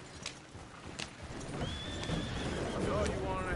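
Horses neigh in a Red Dead Redemption 2 game scene, with whinnies and faint hoof clops over a steady ambient bed, heard moderately close without speech.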